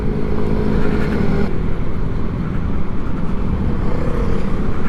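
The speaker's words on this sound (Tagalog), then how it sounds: "Uy, dami sasakyan ah." Heavy traffic on Taiwan's northeast coastal road, a continuous dense roar of passing vehicles with broadband wind and tire noise, loud and steady throughout.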